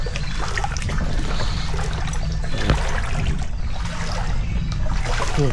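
Knee-deep floodwater in Kampung Sampun, Kota Samarahan, Sarawak, overflows into a house with a steady rushing, trickling flow, close by and continuous, with a low rumble underneath.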